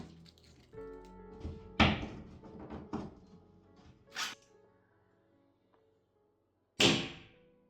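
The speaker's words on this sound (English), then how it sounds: "they are a bit too strong because it makes this annoying sound when you close the door" Door on a solar-electric boat fitted with strong hardware-store magnets being closed, several sharp knocks and thuds with a harsh snap as the magnets catch, followed by a final loud clack after a quiet pause.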